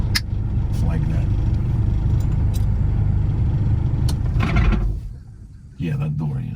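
A 1991 Isuzu Big Horn Irmscher R coupe with a 4JBT turbo diesel cranks and runs loudly up close for about five seconds, then drops off briefly before the engine noise returns, with people talking nearby.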